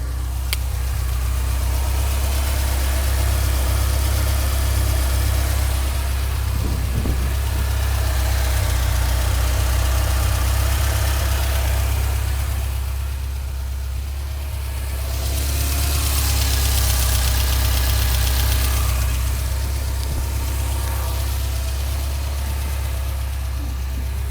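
A 1991 Ferrari 348 tb engine idling up close, a steady low throb with a faint mechanical chatter that dips briefly midway, running alone without speech.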